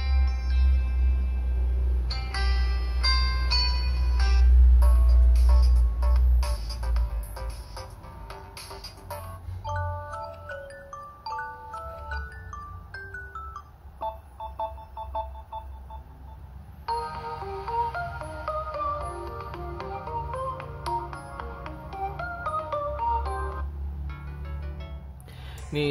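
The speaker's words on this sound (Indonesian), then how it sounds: "Berikutnya kita coba suara ringtone dari Samsung Galaxy A02s, apakah cukup kencang?" A melodic electronic ringtone of chiming, stepped tones plays loudly from a Samsung Galaxy A02s speaker for the whole stretch, repeating its tune without any talking.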